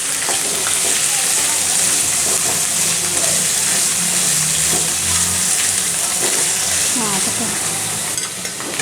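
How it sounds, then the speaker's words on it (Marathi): Mixed vegetables with peanuts and sesame seeds fry in hot oil with garlic for a Bhogi bhaji, giving a loud, steady sizzle and hiss throughout, with faint stirring scrapes and brief speech. "लसूण टाकल्यावर चांगलं तडतडून द्यायचा लसूण तेलामध्ये सर्व भाज्या एकत्र टाकायचे आहेत"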